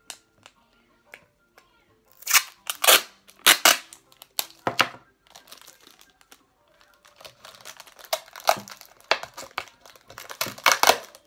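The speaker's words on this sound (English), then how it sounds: "so I'm going to have to tape up the bottom." Sticky tape is pulled, torn and pressed around the bottom of a balloon, making sharp crinkling rips and crackles in uneven close bursts separated by quiet gaps.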